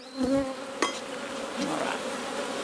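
Dense buzzing of honey bees swarming around an open hive, a continuous close drone with a few individual bees flying past near the microphone.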